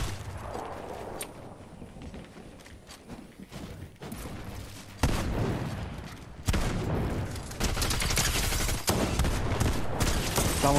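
Loud, dense shotgun blasts and rapid gunfire from a Fortnite battle, with repeated booming shots and sharp bursts filling the whole stretch, growing heavier and more continuous toward the end.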